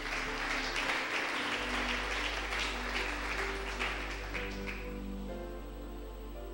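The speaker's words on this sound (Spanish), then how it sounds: "¿Cuántos aplauden el nombre del Eterno?" A church congregation applauds, a dense wash of clapping for about five seconds over a low hum and keyboard tones, then fading out as the music continues.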